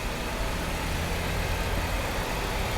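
Engine of a 2010 Chrysler Sebring Touring salvage car idling with a steady, even hum, close by and alone, no talk.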